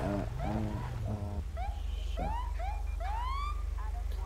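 In a GTA roleplay game, a police car siren whoops in rising electronic sweeps with a few horn-like blasts first. It sounds loud and close over a steady engine hum.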